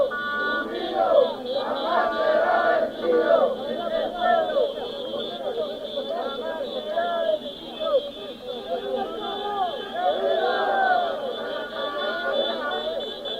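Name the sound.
protest crowd chanting slogan against neoliberal policies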